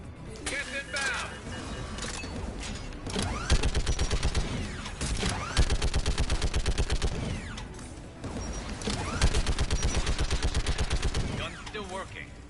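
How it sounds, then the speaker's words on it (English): Geth turret fire in Mass Effect 3, coming in loud rapid bursts of machine-gun shots separated by brief pauses, layered over a dense game soundscape and talk. "You should be able to operate a vacant Geth turret yourself, Shepard."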